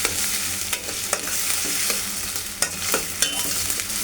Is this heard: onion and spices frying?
yes